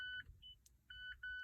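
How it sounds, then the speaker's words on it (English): Short electronic beeps repeat in a quick pattern, a 2020 Mazda CX-5 warning chime sounding close, with a quiet rumble beneath. "Okay, that beeping's annoying."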